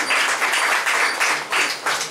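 An audience at a gathering applauds, a dense, steady burst of many hands clapping that pulses slightly in waves and stays fairly loud throughout.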